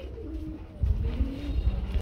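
Pigeons at a market sale coo in low, rolling repeated calls close by, several soft throaty burrs overlapping against a steady background hum.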